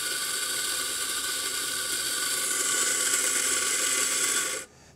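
Mazzer espresso grinder grinding a dose of coffee, a loud steady close motor whir with gritty grinding that runs evenly for several seconds and then cuts off abruptly.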